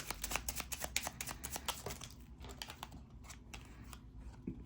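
A deck of tarot cards is riffled and shuffled close by in a quiet room, giving rapid papery flicks and snaps that thin out toward the end.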